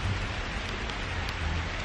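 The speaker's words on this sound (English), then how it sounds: "it's raining so hard" Heavy rain pours down steadily onto a shed roof and the ground around it, a dense, loud, unbroken hiss with faint rumbles beneath.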